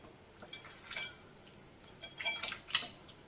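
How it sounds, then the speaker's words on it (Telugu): Tomatoes and onions being mashed for tomato pulusu, a run of light clinks and taps of a utensil against a vessel at an uneven pace, close and fairly quiet. "ఈ టమాటోలు, ఉల్లిపాయలు ఇవన్నీ మ్యాష్ చేసుకోవాలి."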